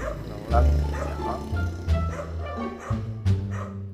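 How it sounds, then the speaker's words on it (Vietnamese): A small dog in the countryside near the Vietnam–Cambodia border barking: repeated close barks and yips mixed with people talking. "chó sủa quá."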